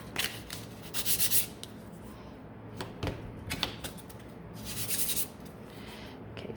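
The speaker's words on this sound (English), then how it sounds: "I'm just going to give them a quick sand here." Small wooden craft pieces for snowman figures are hand sanded, giving close, scratchy rubbing strokes in irregular bursts with brief pauses between them and no talk.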